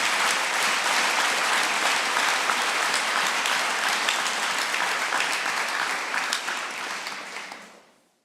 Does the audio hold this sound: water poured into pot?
no